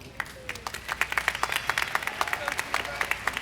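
Steady clapping from a commencement ceremony crowd, a dense patter of many hands sustained throughout, moderately loud and close.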